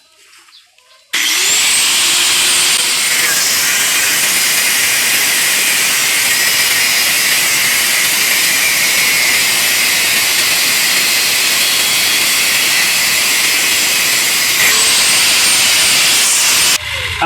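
A loud, continuous high-pitched grinding roar of a cutting disc biting into a refrigerator motor's metal, holding steady for about fifteen seconds before cutting off.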